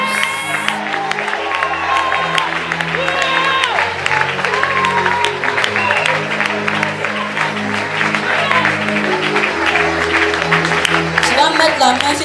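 A church congregation at a worship service applauds and cheers loudly and continuously, blended with sustained music and a voice speaking over the crowd.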